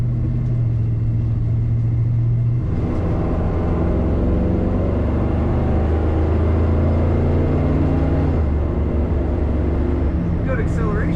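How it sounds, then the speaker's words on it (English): A 1968 Chevrolet K20 4x4 pickup engine rumbles steadily with a deep exhaust note, rising in pitch as it revs, close and loud throughout. "Very nice exhaust note on this truck."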